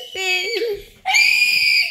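A person screaming twice at close range, a loud, high wavering shriek, a brief pause, then a sharper, louder scream.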